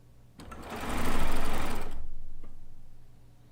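A sewing machine runs a short stitching burst used for garment seam finishing, a close whirring hum that swells quickly, holds for about a second and then winds down alone in a quiet room.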